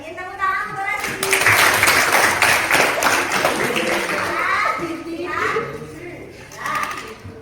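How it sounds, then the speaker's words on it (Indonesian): Schoolchildren in an Indonesian classroom clap for a classmate after a chemistry demonstration, a burst of dense close applause mixed with excited kids' chatter that tapers off as a teacher's voice returns. "Tepuk tangan untuk Rashidin"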